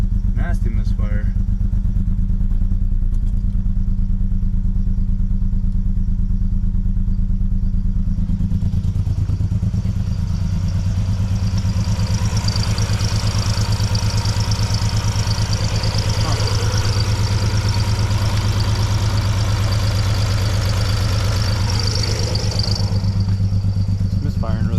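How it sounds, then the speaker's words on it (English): An Audi Avant engine idles roughly with a bad misfire, its loud, uneven clattering throb running steadily throughout at close range. "It's misfiring really bad. I think one of my ignition coils was loose."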